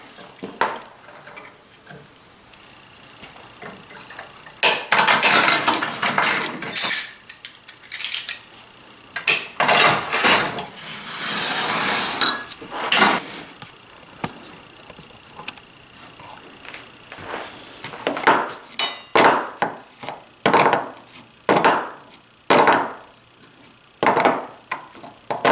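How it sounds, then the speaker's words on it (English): Clamps come off a wooden wrench rack in a workshop: a series of close metallic clanks, rattles and knocks, sparse at first, then a dense run of handling noise, then a string of separate sharp clicks and taps toward the end. "Alright, let's take the clamps off here."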